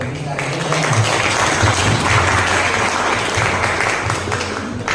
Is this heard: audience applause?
yes